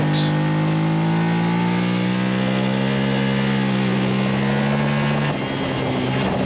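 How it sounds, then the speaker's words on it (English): Race car engine on a novice road-racing lap, a loud sustained high-revving drone held near the limiter over the hill, with a slight dip near the end, close to the microphone and without talk. "Up over the hill, tapping on that rev limiter, going well there."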